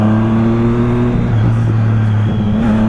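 A Triumph Street Triple motorcycle engine, 675cc, runs loud and close with sustained droning tones that shift pitch as it revs, no talking.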